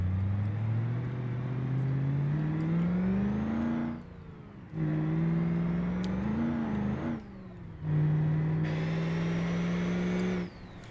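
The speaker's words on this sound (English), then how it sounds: "I do definitely love that sound of a V8 diesel, heavy duty pickup V8 diesel engine" The V8 diesel engine of a heavy-duty pickup revs in three sustained, rising pulls separated by short drops, loud and close with no talking.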